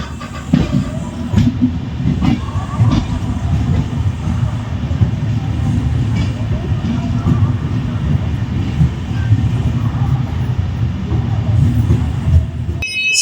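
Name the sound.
Nilgiri Superfast Express train arriving at Katpadi Junction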